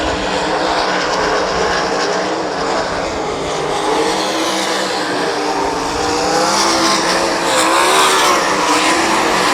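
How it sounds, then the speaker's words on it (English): Sprint cars race on a dirt track in a heat race, a continuous loud roar of multiple engines surging and droning without pause, some squeal mixed in, no talk heard. "Tight racing over there in 3 and 4 is Josh Schneiderman trying to get by that 15 car of Christian Bowman"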